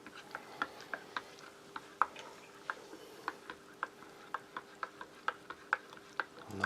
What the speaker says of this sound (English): Nice, good stir.